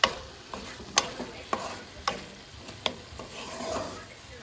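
A spoon stirs brinjal and drumstick curry in a pan, striking and scraping in a regular beat about twice a second over a light background sizzle, close and fairly quiet, with no talk.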